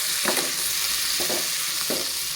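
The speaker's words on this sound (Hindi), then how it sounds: "आप आवाज़ सुन रहे ना गाइस, अपना तेल की आ रही है गरम गरम" Tomatoes fry in hot oil with a constant close sizzle, broken by three soft stirring scrapes at even intervals, no voices.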